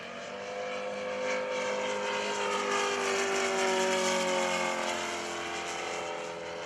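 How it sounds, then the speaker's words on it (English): An RC scale Corsair with a scale radial engine drones past overhead at an airshow, a steady engine tone that swells and shifts pitch as it passes, with no talk. "RC scale radial engine in front of this Corsair"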